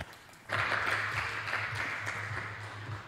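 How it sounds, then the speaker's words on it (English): A conference audience breaks into applause after a speaker's introduction, a sudden burst of clapping that holds steady and fairly faint for a few seconds, with a low hum beneath. "Please give him a round of applause."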